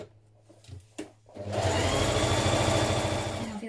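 A sewing machine stitches a 1.5 cm seam on a pullover dress, starting after a few faint handling clicks and then running as a steady, close, continuous mechanical whir until the end.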